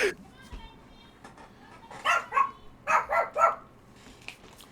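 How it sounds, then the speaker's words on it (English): Several dogs bark in a burst of sharp, repeated yaps partway through, fairly close, with a person talking faintly underneath before and after. "Sorry for the dogs."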